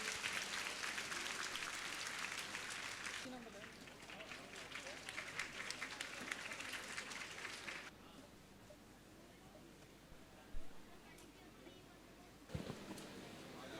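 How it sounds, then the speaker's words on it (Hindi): Students clap for a guest speaker at a motivational session for JEE and NEET aspirants in Kota. The dense applause fills the first several seconds, then thins to scattered sound, noise and a few knocks. "एक बार फिर से जोरदार तालियां बजा दीजिए"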